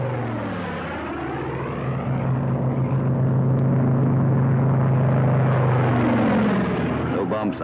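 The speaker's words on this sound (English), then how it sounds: "Sees Wyman pulling out of his dive" A P-47 Thunderbolt fighter plane pulls out of a dive, its engine roaring loud and close with a deep, steady drone whose pitch sweeps down and then rises again.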